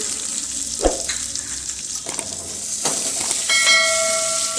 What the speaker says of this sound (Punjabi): ਇਹਨਾਂ ਨੂੰ ਵੀ ਆਪਾਂ ਤੜਕੇ ਦੇ ਵਿੱਚ ਭੁੰਨ ਕੇ ਤਿਆਰ ਕਰ ਲਵਾਂਗੇ